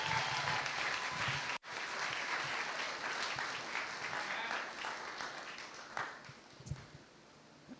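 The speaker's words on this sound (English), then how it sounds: "Would y'all please put a huge round of applause together for them" Wedding guests give the hosts a big round of applause, a dense, sustained clapping that cuts off for an instant, resumes and gradually thins toward the end with a few scattered claps and faint voices.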